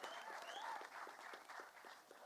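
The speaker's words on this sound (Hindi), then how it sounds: "आप सबके लिए जोरदार तालियां, जितनी ताली बजाएंगे उतना कम है।" Faint, steady applause from an audience at the launch event for a Hindi song from Adipurush, sounding distant and soft as a continuous wash of clapping.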